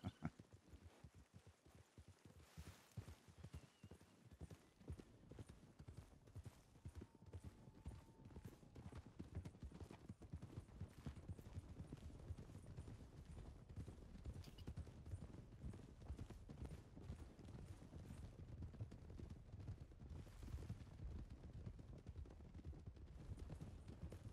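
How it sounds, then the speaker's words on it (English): Horse hooves clip-clop steadily in a video game, a rapid continuous patter of close hoofbeats running throughout, with scattered louder knocks layered on top. "God, horse, calm down."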